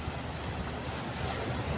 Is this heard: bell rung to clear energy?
no